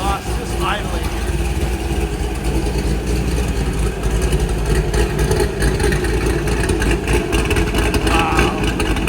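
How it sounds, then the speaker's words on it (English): A 2007 Chevrolet Corvette Z06 with a ProCharged supercharged V8 and six-speed manual idles nearby, its exhaust a steady low, loud rumble that holds throughout without revving. "listen to the exhaust just idling here"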